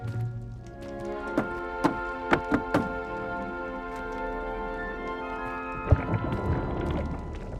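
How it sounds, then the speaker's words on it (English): Rhythmic knocks on a wooden barrel in Hogwarts Legacy, a series of distinct hollow taps in a deliberate pattern, with a final thud near the end, over soft sustained musical tones. "You must tap the barrel, 2 from the bottom, middle of the second row, in the rhythm of Helga Hufflepuff"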